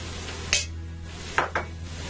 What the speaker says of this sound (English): I'm going to stir this up and get this to absorb the juices into the flour